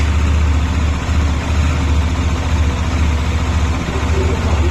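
A Bajaj Dominar 400 motorcycle idles close by during a coolant service, its low, loud engine thrum pulsing evenly with slight dips, and no one speaks.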